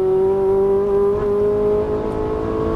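A Ferrari 458 Italia at full throttle on the Auto Club Speedway track in Fontana gives a steady, loud engine drone with strong held harmonics, heard from inside the car with no talk.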